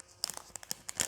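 Wrapping being peeled and shaken off: a short sequence of faint, close crinkly rustles and small tearing crackles, ending in a slightly louder crumple.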